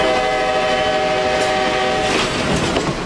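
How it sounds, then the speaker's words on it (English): Amtrak's last Broadway Limited train pulls out of Philadelphia's 30th Street Station, a loud, steady rumble of rolling railcars with a sustained horn tone over the first two seconds, then continuing wheel noise. "The last Broadway Limited train rolled out of 30th Street Station this morning."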